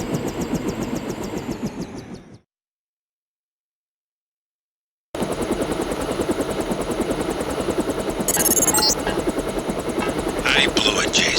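A stealth helicopter in the Deus Ex video game thrums with a loud, steady rotor chop, cut by a few seconds of silence before resuming, with speech over it and a brief electronic blip near the end.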